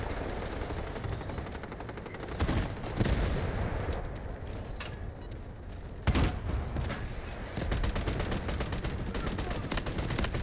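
Rapid automatic gunfire and bursts of shooting in the video game Delta Force during a team battle, loud and continuous with heavier explosive thumps, under occasional talk.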